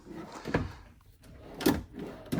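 Drawers sliding open one after another in the rear kitchen of a 2025 Prime Time LaCrosse 3411RK RV, three close, distinct rolling thuds spaced about a second apart with no talking.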